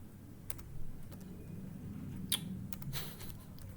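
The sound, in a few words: typing on a computer keyboard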